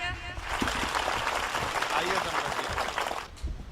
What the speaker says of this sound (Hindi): तो बजा दो एक बार तालियां